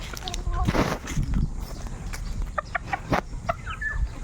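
Chickens cluck softly at close range while being fed, with scattered footsteps and people talking throughout.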